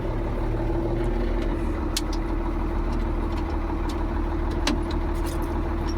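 A Ford 9700 tractor idles steadily on a horse farm, its low diesel drone constant and close, with a few faint clicks and knocks over the engine hum and no talking.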